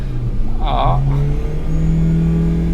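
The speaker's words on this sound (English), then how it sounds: "It's just revving and revving and revving and revving" A car engine revving in gear, with a sustained drone that climbs in pitch, close and loud, and a brief whining sweep near the start.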